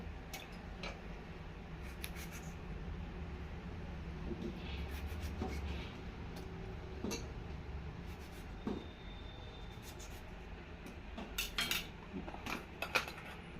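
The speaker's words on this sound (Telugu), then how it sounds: "అలాగే టొమాటోస్ని కూడా ఇలా కట్ చేసి వేసుకుందాం" A knife cutting tomatoes for a dal in a home kitchen, making faint scattered taps and clicks against a board over steady background hiss, with no voices.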